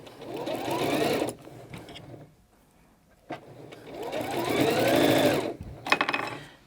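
A sewing machine stitches soft minky fabric for a throw pillow in two bursts of rapid mechanical whirring, separated by a short pause with a faint click, fairly close and without talk.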